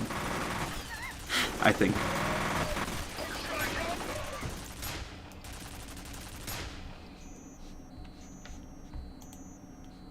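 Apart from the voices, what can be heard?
mounted turret gunfire in the video game FEAR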